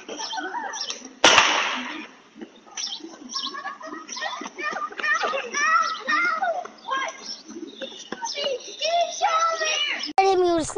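A single sharp, loud gunshot cracks out on a residential street on a Saturday afternoon, followed by children talking and playing with birds chirping nearby, and a second brief bang near the end.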